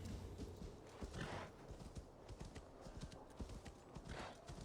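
Faint hoofbeats clop along in a quick, steady rhythm, with a soft whinny-like sound partway through, heard at a distance, from a horse galloping in the video game Assassin's Creed Valhalla.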